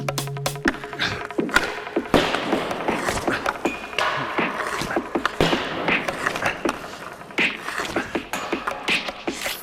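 Pucks struck with a Bauer Vapor Hyperlite goalie stick during accuracy shooting, a run of sharp close clacks and thuds at an irregular pace, with some scraping between hits and no talk.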